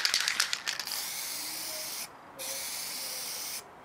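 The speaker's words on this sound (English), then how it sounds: "I'm running out of the spray" An aerosol can of primer sprays outdoors for base coating a miniature: a few rattling shakes, then two long steady hissing bursts separated by a brief pause, close and loud.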